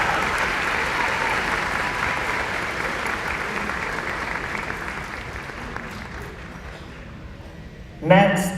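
Graduation audience applauds steadily for scholarship recipients at a high school commencement ceremony, a broad wash of many clapping hands that slowly fades, with a brief louder burst near the end.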